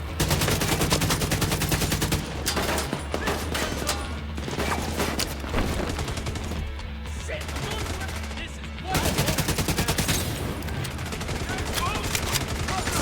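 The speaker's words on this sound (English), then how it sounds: "Incendiary bullets, hell yeah." Rapid, dense automatic gunfire firing incendiary rounds in the shooter game The Division 2, loud and continuous for the whole stretch and briefly easing midway.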